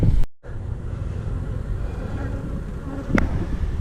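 Bees buzz steadily around an open hive box during a honey harvest, a dense close drone with light wind rumble and one brief knock partway through, no talk.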